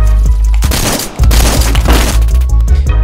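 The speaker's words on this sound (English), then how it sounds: "Now I'm gonna go back to my pump gun" Loud pump shotgun fire in a video game, heavy booming blasts and cracks packed together across the span, close and dense with game noise and no talk.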